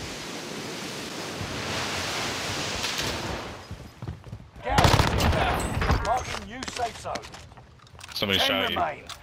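Bursts of video game gunfire crack out mid-clip in a battle royale match, loud and clustered around a shootout, with a player talking over much of it against a steady noisy wash.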